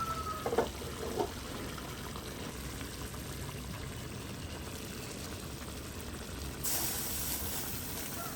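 Steady coconut milk pouring into a simmering sailfish curry, a soft continuous splash and trickle, close and fairly quiet.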